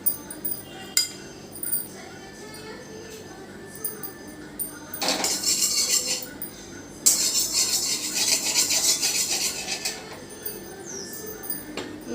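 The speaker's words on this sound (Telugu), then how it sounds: "పొయ్యి మీద ముందు బాండీ పెట్టుకొని తాలింపు పెట్టుకోవాలి" Spices, including asafoetida, are tempered in hot oil in a kadai on the stove for tamarind rice (pulihora). Soft clinks of a utensil come first, then two loud bursts of sizzling, with a voice faintly underneath.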